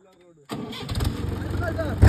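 After a brief quiet moment with faint talk, a Mahindra tractor engine cranks and catches, settling into a steady rumbling idle close by.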